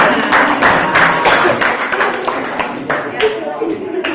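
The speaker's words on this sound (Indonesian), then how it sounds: "Beri tepuk tangan dulu buat dia." Classroom audience clapping for a group presentation, a close, uneven patter of hands that thins out toward the end, with voices mixed in.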